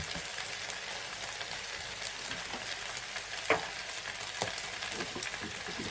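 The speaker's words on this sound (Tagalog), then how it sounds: "Golden brown ko muna siya para mayami siya" Chicken frying until golden brown for adobo gives a steady, soft sizzle and crackle throughout, with a few light clicks of stirring.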